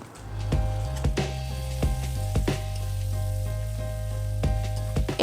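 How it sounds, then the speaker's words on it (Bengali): Ginger garlic paste sizzles steadily in a hot pan for chicken khichuri, with a constant frying hiss broken by a few sharp crackles and stirring scrapes, close and moderately loud. "দুই মিনিট ধরে আদা রসুন বাটাটা ভেজে নেব"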